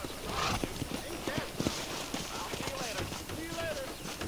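Steady clip-clop of horse hooves plodding along, with a horse whinnying briefly and people talking in the background, from the video game Red Dead Redemption.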